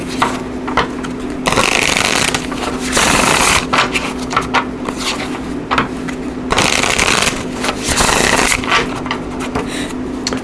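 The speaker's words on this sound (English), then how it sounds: "I'm going to pick some cards here from the Light Seer Tarot" Light Seer Tarot cards are shuffled in repeated bursts of loud, close riffling and rustling, with short pauses between shuffles.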